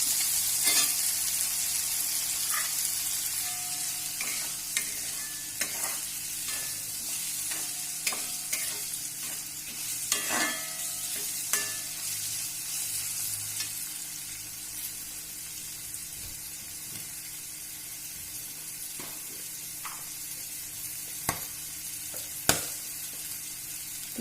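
White lime pickle ingredients sizzle and fry steadily in a pan, broken by frequent sharp scraping and stirring clicks from a spoon, close and alone without talk.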